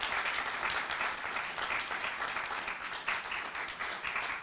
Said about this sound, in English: Y'all need to give these gentlemen a round of applause